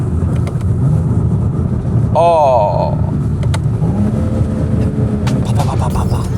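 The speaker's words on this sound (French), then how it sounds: "Et là, on va faire un test de boîte de vitesse." A BMW 335i running during a gearbox test, its steady engine drone rising and falling under a man's speech, with a brief warbling tone near the middle.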